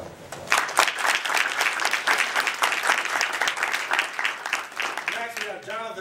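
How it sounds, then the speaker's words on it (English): Audience applause at a Lockport city council meeting honoring the Golden Knights: steady, dense clapping from a room full of people that carries on for several seconds, with a voice starting up at the very end. "We'll give him a round of applause."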